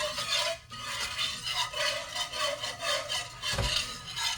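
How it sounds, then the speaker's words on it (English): Homemade gravy being stirred by hand as flour is mixed in, a steady rasping, scraping sound that rises and falls in repeated strokes, close and fairly loud, with no talking. "So I'm gonna mix all that flour in"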